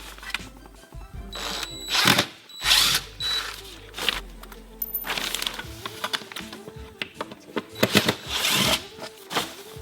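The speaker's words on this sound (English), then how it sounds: "undo the screws that are holding the box on" A power drill undoes screws holding an electrical box to a wall in an off-grid cottage build, with several short whirring bursts with ratcheting clicks, close and loud, separated by handling noises.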